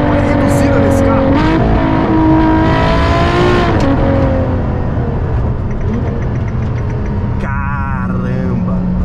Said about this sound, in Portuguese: Olha a reduzida desse carro.